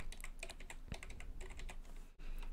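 Computer keyboard keys are tapped in quick, irregular clusters for editing shortcuts in FL Studio's piano roll, close and crisp over a steady low hum, with no talking.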